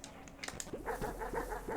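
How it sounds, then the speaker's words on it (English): Short, faint dog barks and yips from the dog in the video game Animal Well, a quick series of small calls over a soft ambient background. "The dog's, like, chasing that, too."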